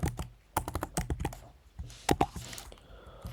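Close typing on a computer keyboard, in irregular bursts of sharp key clicks separated by short pauses, with no talking.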